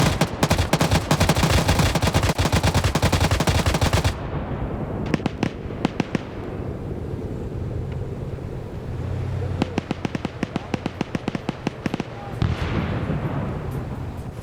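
Dense, loud gunfire rattles nonstop in an Arma Vietnam PvP battle for about four seconds, then gives way to scattered single shots and short bursts with distant booms from grenades. The firing picks up again near the end.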